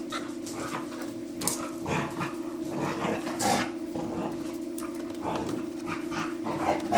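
Dogs growl and pant close by, low rumbling growls mixed with short breathy pants and occasional whimpers over a steady background hum, with no talking.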